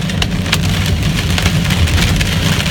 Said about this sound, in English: Hail fog again. Big.